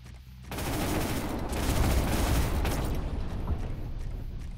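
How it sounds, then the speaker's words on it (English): Mech machine guns firing continuously in the MAV video game, a loud dense rattling stream of rapid shots that starts abruptly and holds steady. "use only your machine guns at this range"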